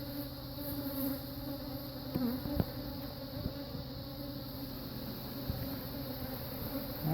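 Agitated honey bees swarm around an opened, packed hive during a hive split, a dense steady drone of buzzing with individual bees whining close past, continuous and fairly loud.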